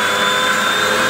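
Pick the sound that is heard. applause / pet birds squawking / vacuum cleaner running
vacuum cleaner running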